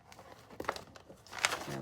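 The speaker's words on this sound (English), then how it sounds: "These plastic bags are really cheap," Cheap, thin plastic bags are handled up close, giving soft crinkling and rustling in short irregular bursts. A faint voice murmurs underneath.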